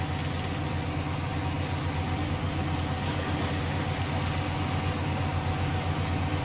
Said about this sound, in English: high ratio kicks in and the revs pick up and you're off